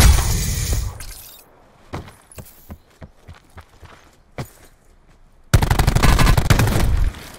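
Video game gunfire in Black Ops plays out as a burst of loud rapid automatic fire, then a string of separate sharp shots, then another long sustained burst at the end.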